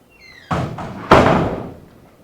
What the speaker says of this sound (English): I'm going to go ahead and close that door because the noise comes out.